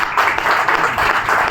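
An audience at a Haridwar meeting claps in a steady, fairly loud wash of applause lasting the whole moment.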